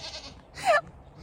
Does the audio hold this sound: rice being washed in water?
no